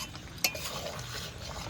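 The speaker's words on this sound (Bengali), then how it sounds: "একটু নেড়ে চেড়ে নেব" A spoon stirs a meat curry with ground spice paste in a pan, one sharp metallic clink followed by soft scraping and a low simmering hiss, close and quiet.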